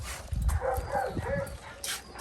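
A dog barks and yips a few times at close range, with excited whimpering mixed in against a noisy room.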